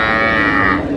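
A cow with her calf at Ambari cattle market in Dinajpur gives one loud, close, drawn-out low moo lasting about a second.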